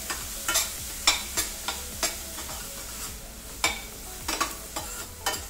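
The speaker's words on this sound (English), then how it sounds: "The onion has to saute with butter and oil." Onions sautéing in butter and oil for a Mumbai street-food egg dish, a steady low sizzle broken by repeated sharp clacks of a spatula stirring against the pan, close up, with no talking.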